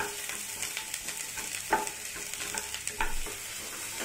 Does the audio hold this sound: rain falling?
no